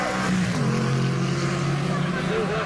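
A twin-turbo, fuel-injected 2-litre Subaru-engined full-time 4WD car accelerating at a beach drag race in Bunbury, a loud steady engine drone with rising tonal whine, continuous under faint crowd or commentary voices.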